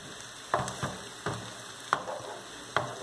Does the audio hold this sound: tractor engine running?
no